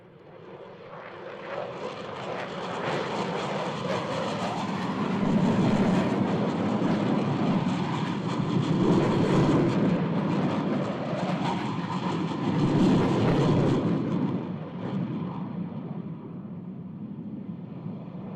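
US Navy Blue Angels jet aircraft fly past at an airshow practice on a windy day, a loud sustained roar that swells and fades in waves across the whole stretch, with no talk over it.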